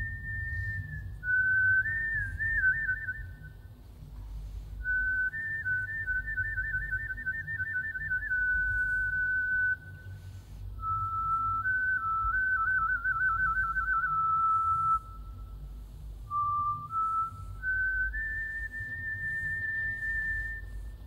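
An ancient Chinese flute about 7,000 years old plays a slow, sustained melody of long, pure whistling tones that glide between pitches, heard alone over a steady low hum.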